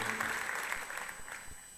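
Audience applause at a community awards ceremony honoring women, a steady wash of clapping from many hands that fills the whole stretch and eases off slightly toward the end.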